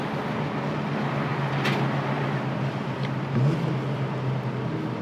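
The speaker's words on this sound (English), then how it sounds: "Oh, great downshift." A BMW E36 M3 engine drones steadily from inside the car during a downshift, a loud continuous low hum with a slight swell in revs late on and no voices.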